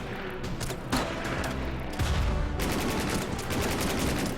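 Sustained automatic gunfire and battle noise from the wartime strategy game Order of Battle: Burma Road rattle continuously, loud and dense, with a heavier burst partway through.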